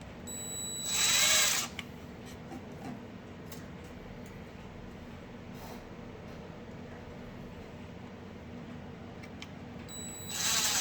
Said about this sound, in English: I am going to use my DeWalt gun here.